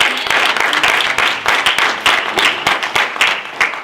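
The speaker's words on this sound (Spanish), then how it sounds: "le damos un aplauso a Dios por eso" A church congregation claps loudly and continuously, many hands producing a brisk, close patter that holds for several seconds with no talk over it.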